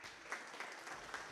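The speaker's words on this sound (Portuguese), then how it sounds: "Uma salva de palmas para a professora Rita." Audience clapping after a lecture on election campaign accounts, soft and distant, a brief dense patter of hands with no talk over it.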